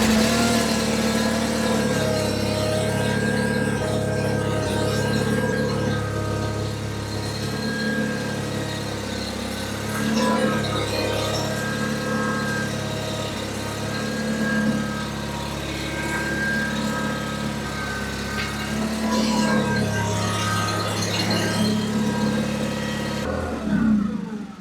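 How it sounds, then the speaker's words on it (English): A John Deere 318 garden tractor engine runs steadily after starting, a loud close idle with a strong low drone and several brief revs rising and falling over about twenty-five seconds, with no talking. "Then we'll go ahead and start up the tractor."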